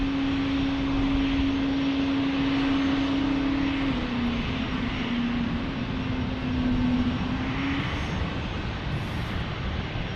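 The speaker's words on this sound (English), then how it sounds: "That is a 737 MAX for Southwest Airlines." A Southwest Airlines Boeing 737 MAX jet airliner at San Diego airport roars steadily and close, with a sustained engine tone that drops slightly in pitch partway through as the aircraft passes.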